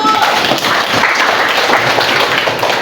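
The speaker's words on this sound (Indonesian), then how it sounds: "Tepuk tangan untuk kelompok 1." A classroom of students claps together for group 1 after their poster presentation, a dense, steady patter of many hands held close and loud for about three seconds with no talk over it.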